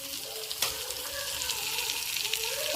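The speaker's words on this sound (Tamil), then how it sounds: "எண்ணெயிலேயே மஞ்சத்தூள் நல்லா வதங்கட்டும்." Curry leaves and turmeric fry in hot oil with a soft, continuous hiss and crackle, a few faint pops and a light knock standing out.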